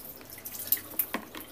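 Small splashes and drips of water fall onto a plastic toy in a pool scene, a few quick faint plinks and trickles, close but quiet.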